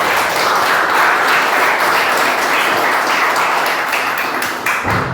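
A church congregation applauding, a dense wash of many hands clapping at close range, steady and loud before thinning out and tapering near the end.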